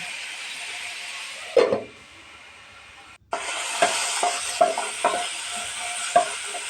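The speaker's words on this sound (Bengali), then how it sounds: "হালকা হালকা মিষ্টি কুমড়োটা ভাজা হচ্ছে" Chopped sweet pumpkin fries in mustard oil with a broad, steady sizzle that briefly quiets, then returns louder with repeated stirring scrapes and clinks against the pan.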